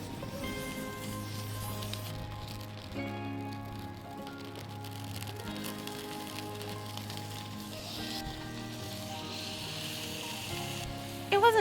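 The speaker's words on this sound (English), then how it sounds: "We tried cooking meat on the fire pit during the rain" Meat sizzling in a pan set over a campfire pit in the rain, a steady continuous hiss and crackle with rain pattering on surfaces, close and even throughout.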